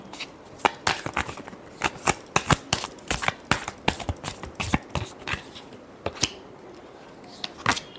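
Tarot cards are shuffled by hand in a quick, uneven run of crisp slaps and riffles. The sound is close and continuous, with no speech.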